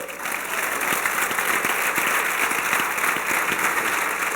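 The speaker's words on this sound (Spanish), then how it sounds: "Dale un fuerte aplauso al Señor" A congregation claps steadily during a church service, with dense, even applause sustained throughout.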